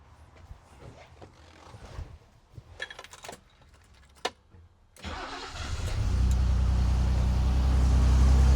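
Keys jingle and a few clicks come first, then a BMW 735i E23 engine, unused for six years, cranks and fires up, revving into a loud, deep rumble that settles into a steady idle.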